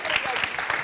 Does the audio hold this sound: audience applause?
yes